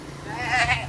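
Goat bleat in a comedy sketch, a single wavering bleat rising mid-clip and sustained near the mic, loud and harmonic, with low background hum.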